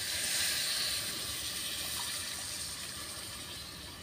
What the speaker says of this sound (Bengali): কষানো হয়ে গেছে, আমি একটু জল দিয়ে দিই